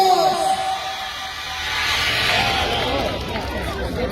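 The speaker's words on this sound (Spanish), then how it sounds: "primero los aplausos para el Internacional Sanguinario. ¡Fuerte las palmas!" Crowd applause and cheering for the dancer Internacional Sanguinario at an outdoor danzante competition, a broad noisy swell of clapping and voices that builds and holds, with shouting children and chatter mixed in.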